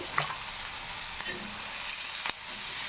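Steady sizzling of sambar masala frying on a tawa for stuffed brinjal bharit, with a few soft clicks of stirring against the metal, no voices.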